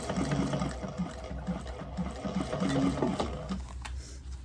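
Sewing machine stitching fabric, a close rapid mechanical whirring with a pulsing needle rhythm running for several seconds, then slowing and stopping near the end.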